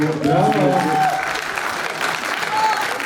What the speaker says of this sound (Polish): Brawa po raz pierwszy dla obu.